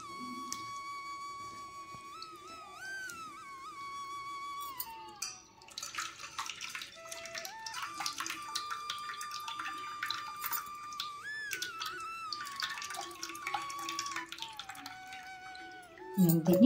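Hands squeeze tamarind pulp in water in a bowl for pulihora, making quiet wet squelches and splashes in irregular bursts, with a thin tonal melody running behind.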